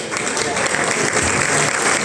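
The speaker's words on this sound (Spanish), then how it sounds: "Gracias por el aplauso." Audience applause at a Women's Day festival event in Otxarkoaga, a continuous loud clapping wash filling the space with some murmur beneath.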